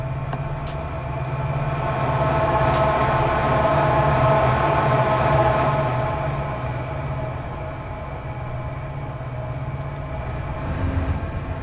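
Train rolling along in the Run8 V2 railroad simulator game, a steady rumbling drone of wheels and engine with a low hum, swelling slightly and easing off, heard alone without talk.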